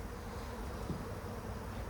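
A faint, continuous buzzing of a honey bee swarm hums steadily in the background, with no other sounds.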